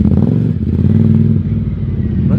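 A Ducati XDiavel motorcycle fitted with a quick shifter runs loud and steady with a deep, throbbing low rumble and slight revving throughout, close by.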